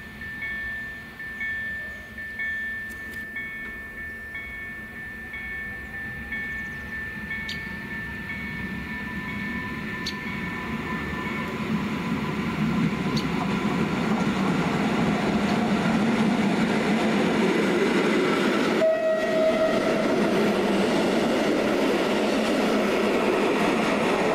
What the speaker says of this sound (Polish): przystanek Tychy Żwaków wjeżdża kibelek linii S5